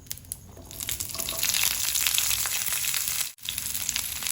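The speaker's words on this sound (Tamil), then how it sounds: "இப்போ நம்ம தேவையான உப்பு சேர்த்து வெங்காயத்தை நல்லா வதக்கி எடுத்துக்கலாம்." Shallots sautéing with salt in a pan for Kerala-style ulli theeyal, a steady close sizzle and crackle with soft stirring scrapes, briefly dropping out near the end before resuming.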